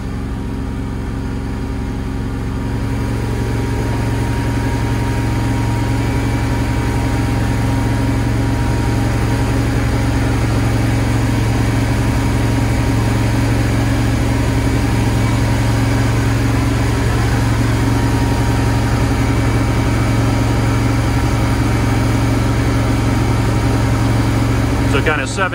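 A Kohler standby generator runs with its lid and side panels removed, giving a loud, steady engine drone with a constant low hum that holds unbroken for the whole stretch.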